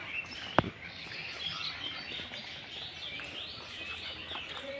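Parakeets at the Dhaka zoo give faint, scattered chirps and calls over a hushed outdoor background, with one brief sharp note near the start and no talking.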